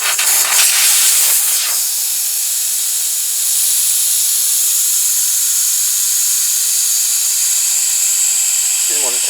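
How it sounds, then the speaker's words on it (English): Air hisses loudly and steadily out of a Suzuki Burgman scooter tyre valve as the tyre deflates, with a brief rougher burst at the start and the continuous close hiss running on to the end. "So there you go, that's the tyre completely deflated."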